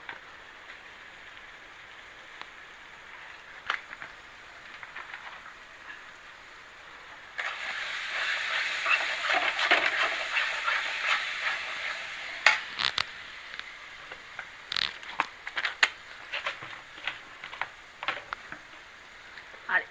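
Chicken with salt and masala is sautéed in a pan, making a soft rain-like hiss that swells partway through, with scattered scraping clicks, fairly quiet and close.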